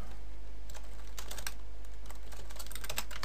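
Fingers tap out text on a computer keyboard in a quick, uneven run of close, crisp keystrokes with short pauses between bursts, heard alone without talk.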